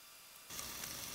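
Shrimp dropped into a hot pan, a sudden bright sizzle that starts halfway through and keeps hissing steadily, close and fairly soft.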